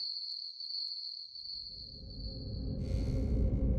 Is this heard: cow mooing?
no